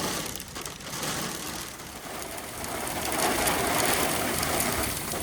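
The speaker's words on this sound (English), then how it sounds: "bit of hail happening." Hail falling during a thunderstorm in Western Australia, a dense, continuous rattling patter that builds louder over the few seconds, with no voices over it.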